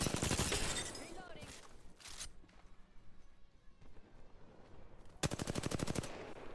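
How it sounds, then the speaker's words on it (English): Peacekeeper shotgun fire in the video game Apex Legends, a loud blast at the start and another burst near the end with quieter game sounds between them, and a voice talking over it. "Let's see how the peacekeeper does"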